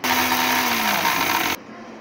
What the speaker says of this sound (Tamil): இவற்றை எடுத்துக்கொண்டு மிக்சியில் நன்றாக அரைத்து கொள்ளுங்கள்